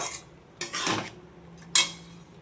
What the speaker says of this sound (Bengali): এবারে গোবিন্দভোগ চালটা মশলার সঙ্গে সাঁতলাচ্ছি।